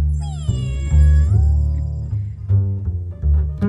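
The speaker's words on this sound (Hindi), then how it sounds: "मेरी प्यारी बिल्ली" A cartoon cat in an anime meows several times in a row, with drawn-out, wavering cries that sit loud and close in the scene.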